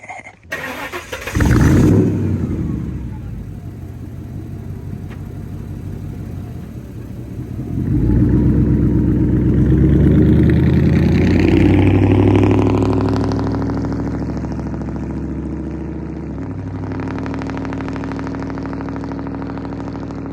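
A car engine cranks and catches on its first startup after service work, settling into a steady idle, then swelling into a loud, sustained rev before easing back down to a rumbling idle, with no talk over it.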